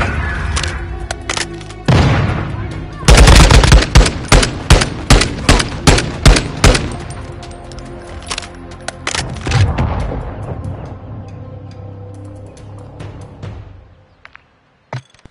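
Loud bursts of gunfire and heavy booms from Modern Warfare 3, a rapid string of sharp shots around the middle, then dense battle rumble that fades toward the end, with no talking.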